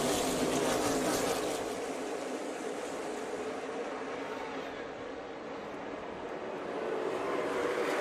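NASCAR Xfinity race cars thunder around the track at Michigan, a broad, sustained roar that swells and fades slightly as the field passes, heard from a distance without any talk.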